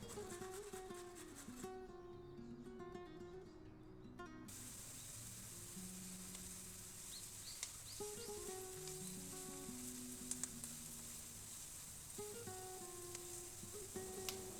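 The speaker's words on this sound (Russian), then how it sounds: "Выложите кубики лука и обжаривайте на небольшом огне 2-3 минуты, регулярно помешивая." Diced onion frying in vegetable oil in a pan over low heat, a steady close sizzle running throughout with occasional light clinks and scrapes from stirring.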